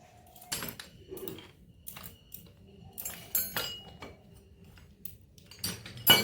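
Metal tools and implements clink and clatter as they are oiled at home for a Vishwakarma Puja celebration: scattered sharp chinks and knocks in uneven bursts, close by and fairly quiet, with no talking.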